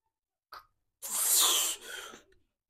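A tired person lets out a long, breathy yawn between sets of a biceps workout at the gym, following a short sharp intake of breath and trailing off into a softer exhale.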